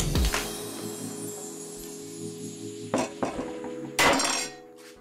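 A hammer strikes a steel part of a shop-built finger brake for a 20-ton press: a sharp ringing metallic whack at the start, then a few quieter knocks and a final loud clanging hit near the end.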